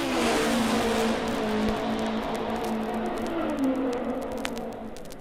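A 1963 Indianapolis 500 race car accelerates out of a corner onto the straightaway, its loud, continuous engine note holding steady and gradually climbing in pitch over a constant wash of track noise.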